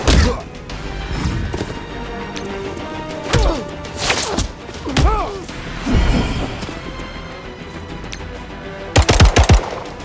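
Rapid bursts of gunfire and impact crashes from the mobile game Marvel Strike Force, loud and repeated in clusters, with a voice talking at times over the game sounds.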